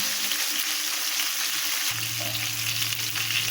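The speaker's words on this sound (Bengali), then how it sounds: "আমি উল্টে পাল্টে মাছগুলো ভালো করে ভেজে নেব" Kalbaush fish sizzles steadily as it fries in hot oil, a continuous dense crackle filling the clip, with a low hum joining partway through; no voices.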